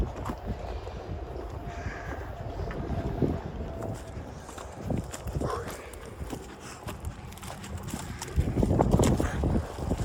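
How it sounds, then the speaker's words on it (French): Gusty wind buffets the microphone outdoors while walking along a fence line on a climbing trail, rising into a louder rush near the end, with rustling and footstep-like knocks underneath. "Et en plus le vent se lève."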